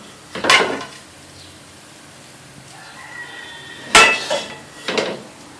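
A spoon clinks against a dish while semolina halwa is served, with one clear knock, then a quiet pause and three more metallic taps close by.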